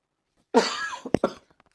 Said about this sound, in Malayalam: ചുമ തടസ്സമായി വന്നു ക്ഷമിക്കണം